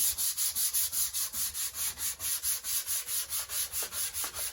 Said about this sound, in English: So again, I want to sand with the grain.